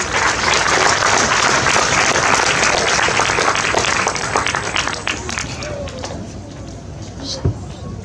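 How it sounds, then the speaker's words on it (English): Audience applause fills the hall at a school Independence Day celebration honoring heroes, steady dense clapping that holds loud for several seconds then gradually thins and fades toward the end. "Let's put our hands together for them all"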